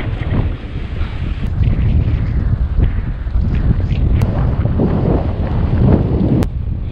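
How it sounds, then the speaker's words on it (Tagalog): Strong wind buffeting the microphone in a constant loud roar, with faint sea sounds beneath and no speech, on the coast of Tablas Island, Romblon. "Ayan o, sobrang lakas lang talaga ng hangin."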